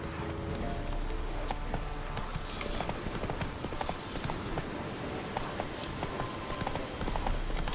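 Horse hooves clip-clopping at a fast gallop in The Witcher 3, a steady rapid beat of hoof strikes with game ambience and occasional faint voice.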